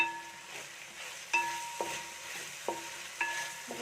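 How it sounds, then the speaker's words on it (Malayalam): Whole fennel, cumin, cardamom, cinnamon, clove and star anise fry in hot oil with a steady quiet sizzle, broken by several sharp scrapes and clinks of a spoon stirring against the pan, with no talking. "ഇനി ഞാൻ കുറച്ച് പെരിഞ്ജീരകം, ഒരു ഇത്തിരി സാജീരകം, ഒരു 6 ഏലക്ക, പട്ട, ഗ്രാമ്പു, തക്കോലം, ഇതെല്ലാം കൂടെ ഒന്ന് ഇട്ട് കൊടുക്കുന്നുണ്ട്."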